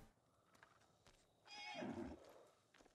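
A horse whinnies once in Ghost of Tsushima, a short rising neigh of about a second set against quiet game ambience, with a few faint soft knocks before and after it.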